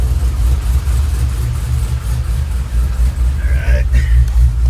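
Supercharged LSA-swapped 2009 Pontiac G8 GT V8 running with its exhaust cutouts open, a deep, steady, throbbing idle rumble close by, with a brief squeak near the end.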